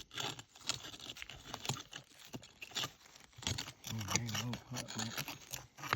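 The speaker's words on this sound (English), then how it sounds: "So we'll dig around the outside, get all this rock and stuff out of the way." Rock and dirt being dug out by hand around crystals outdoors, giving scraping, clinking and crunching sounds in irregular bursts close by, with a person talking over part of it.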